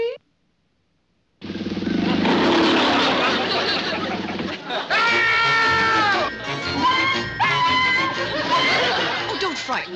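A cat meows and caterwauls in several drawn-out, wavering cries following a burst of noisy chatter, loud and close, with people talking around it.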